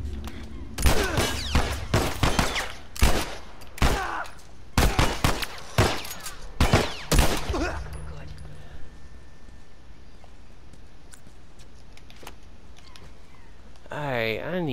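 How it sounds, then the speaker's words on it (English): Gunfire in The Last of Us video game: loud, close volleys of sharp shots in uneven bursts for several seconds, then quieter ambience with scattered faint pops, and speech over part of it. "Who's shooting?"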